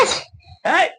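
A young child of about seven sneezes or coughs sharply at close range, two quick explosive bursts separated by a brief gap, loud and alone.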